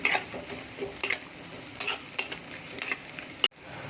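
Crushed ginger and garlic, about one and a half spoonfuls, sizzle in a hot pan for a soybean pulao, with a steady close frying hiss broken by several sharp stirring scrapes of a spoon against the pan.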